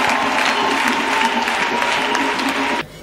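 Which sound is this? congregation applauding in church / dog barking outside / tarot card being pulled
congregation applauding in church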